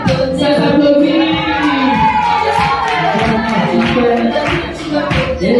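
An audience at a children's church gathering in Bidossessi claps and cheers throughout, with lively voices and singing over the applause.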